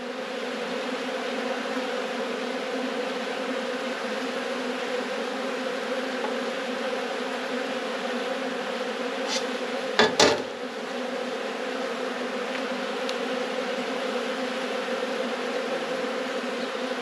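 Honey bees drone continuously around an open beehive during a hive inspection, a dense steady buzz throughout, with a brief clunk of hive equipment near the middle.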